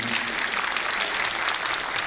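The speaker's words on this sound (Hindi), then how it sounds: "जोरदार तालियों से उनका हम स्वागत करते हैं" An audience applauds in welcome at a Brahma Kumaris dedication ceremony, a dense, loud, unbroken wash of clapping from a crowd that fills the whole moment without pause.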